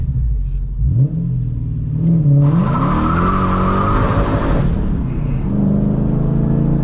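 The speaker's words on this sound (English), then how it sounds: "I'm gonna try to do a little uphill launch here in first gear, just real quick." A Lexus GS400 with a limited-slip differential launches uphill in first gear: the engine revs up loudly and climbs through the gears' pitch while both rear tires squeal and skid for a couple of seconds, close and prominent.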